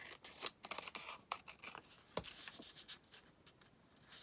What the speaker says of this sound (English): let's just cut that down